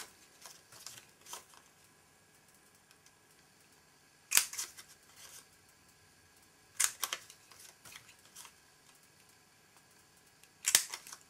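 Corners of cut paper pieces are rounded with a corner punch for a paper nail-file holder, three sharp clicks spaced a few seconds apart over quiet handling noise.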